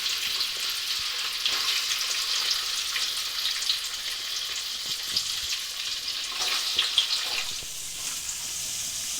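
Mustard seeds and coconut pieces frying in hot oil, a bright, steady hiss of sizzling with faint crackles that swells briefly near the end.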